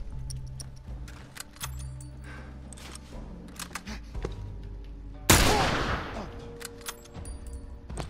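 Gunfire from The Last of Us Remastered erupts as one loud, sharp blast with a ringing decay, set among scattered clicks, thumps and low game ambience.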